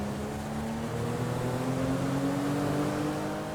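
The standard Benefactor Schafter car in a GTA game: a steady engine drone that slowly rises in pitch, loud and continuous, with no talking.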